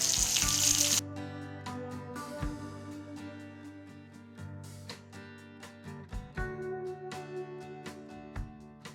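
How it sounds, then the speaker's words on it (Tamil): Garlic and curry leaves hit hot oil for a Tamil poppy-seed gravy with a loud hissing burst lasting about a second, then settle into a softer, steady frying sizzle beneath musical tones. "இப்போது பூண்டையும் போடுறேன் கருவேப்பிலையும் போட்டுடுறேன்"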